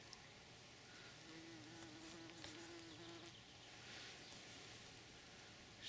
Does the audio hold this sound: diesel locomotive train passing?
no